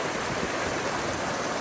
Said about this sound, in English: passing a number of minor waterfalls on the way